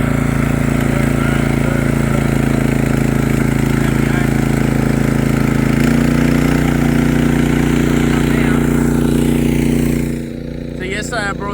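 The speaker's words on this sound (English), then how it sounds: "so we're just using this other pump" A small engine-driven water pump runs steadily at a dirt racetrack, a loud close mechanical drone with a constant hum, shifting slightly in pitch before dropping off near the end.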